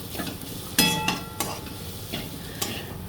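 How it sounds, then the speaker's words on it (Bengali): Prawns stirred into frying potol dorma in a pan, a soft sizzle beneath five or six close spoon scrapes and clinks spaced unevenly, with no talking. "এবার এটাকে ভালোভাবে মিশিয়ে নেব।"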